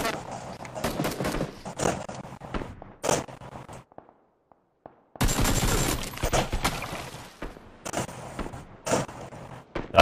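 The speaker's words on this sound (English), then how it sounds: "They're shooting from the house." Bursts of gunfire from players shooting out of a house in PlayerUnknown's Battlegrounds on Xbox One, loud and clattering, broken by a brief near-silent gap before the firing resumes.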